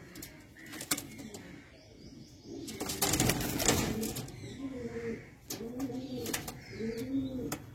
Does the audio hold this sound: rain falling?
no